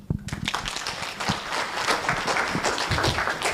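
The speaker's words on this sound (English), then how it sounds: "Makofi mazuri. A better hard clap." Applause from a gathered crowd, dense and continuous, many hands clapping at close to moderate distance with scattered sharper claps throughout.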